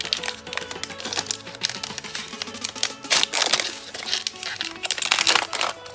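A Pokémon card booster pack wrapper crinkles and crackles as it is carefully opened, with close, irregular rustling and small snaps throughout.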